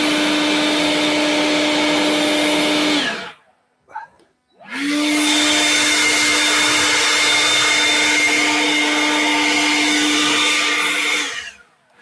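Compressed air blasting dust out of a vehicle frame near the rear spring plates, two loud steady hissing bursts, a short three-second one and then a longer seven-second one, separated by a brief pause.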